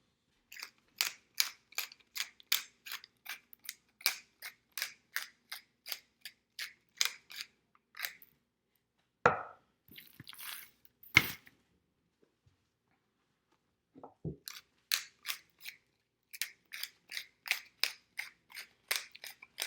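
A hand pepper grinder cracks coarse pepper over a brisket in quick, steady bursts of dry crunching twists, pausing briefly for a few louder clicks and handling sounds before the rhythmic grinding resumes, close and clear with no talk.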